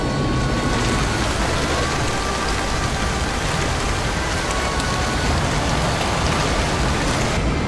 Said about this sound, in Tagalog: na may kasamang bigat ng tubig ulan mula sa kalangitan.